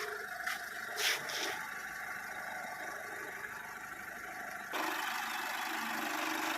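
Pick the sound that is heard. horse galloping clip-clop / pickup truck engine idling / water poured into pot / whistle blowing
pickup truck engine idling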